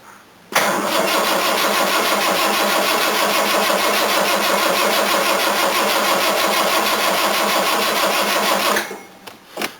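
A cold Jaguar XJ6 engine with its choke disconnected fires up abruptly after a brief crank and settles into a loud, steady, rumbling run close by, then dies away near the end.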